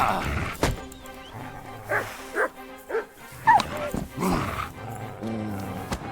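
Dogs barking in the video game Kingdom Come Deliverance 2, a series of close, loud barks and yelps in an irregular rhythm, mixed with growls and whines, with someone talking between them.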